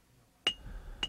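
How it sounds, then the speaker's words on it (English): Two distinct metallic hammer strikes with a cylindrical iron hammer on hot iron during traditional African forging, each a sharp ringing clink, spaced about half a second apart and fairly faint. "Finer forging is done with a cylindrical iron hammer."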